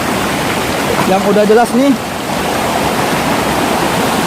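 A river flowing through forest in North Aceh, a loud, steady rush of stream water with someone speaking briefly over it.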